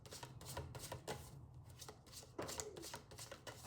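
Tarot cards shuffled and drawn by hand during a reading, a series of soft papery riffles and slaps in quick bursts, close and fairly quiet, with no talk.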